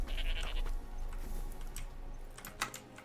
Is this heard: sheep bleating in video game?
yes